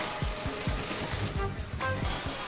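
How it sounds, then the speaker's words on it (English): Machines drilling and wrenching on a busy motorcycle assembly line in a Chinese factory, a dense rapid rattling and hammering clatter with metallic tones, steady and loud throughout. "Ten assembly lines are constantly running, drilling, wrenching, building, and testing at top speed."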